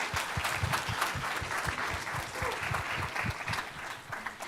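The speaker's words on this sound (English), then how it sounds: "Let's give a huge round of applause to them and to all the nominees we've seen." Sustained applause from a film festival audience at a high school auditorium, a dense steady clatter of many hands clapping for winners and nominees, loud and continuous throughout.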